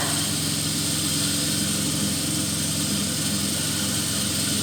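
A rotative-field single-phase shunt generator runs in a lab practical, giving a steady, even mechanical drone with a constant hum that holds unchanged throughout, no voices.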